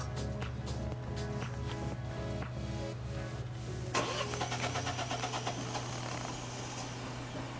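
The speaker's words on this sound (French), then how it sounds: "là maintenant on va pouvoir démarrer la voiture" A Peugeot PureTech engine cranks with a steady whirring starter after a fuel-system cleaner treatment, then catches and roars to life, settling into a rough, busy idle nearby.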